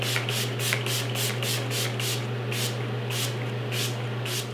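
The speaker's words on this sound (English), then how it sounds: "I'm gonna go ahead and mist my face with my makeup setting spray" Makeup setting spray misted onto a face in about a dozen quick, evenly spaced hissing bursts, close and fairly loud over a steady low hum, without speech.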